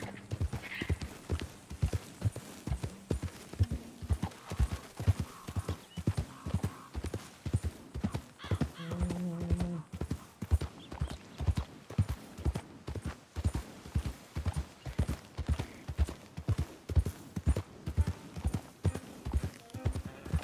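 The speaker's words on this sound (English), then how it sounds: "Wild horses." Galloping horse hooves pound in a steady, rhythmic beat in Red Dead Redemption 2, with a brief whinny rising midway. Faint voices sit under the hoofbeats.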